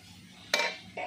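A metal lid lifted off a cooking pot of leafy greens gives one sharp clink, followed by a second, softer clatter a moment later.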